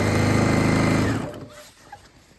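A sewing machine stitches rounded material for an outdoor chair cover, a loud steady mechanical whirr of rapid needle strokes that runs for about a second, then stops and leaves a faint quiet background.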